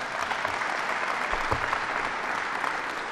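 Audience applause fills a hall at a government announcement in upstate New York, a steady, dense wash of many hands clapping at moderate loudness with no talk over it.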